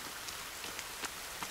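Soft, steady rain falling in the survival game The Forest, a faint continuous patter with a few distinct drops hitting surfaces.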